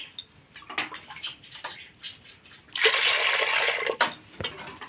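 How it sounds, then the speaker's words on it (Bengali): Water pours into a pressure cooker holding washed dal, starting with a few splashes and knocks, then swelling into a steady, loud gush for about a second before tapering off with a final splash. "পরিমাণ মতো জল দিয়ে দেবো।"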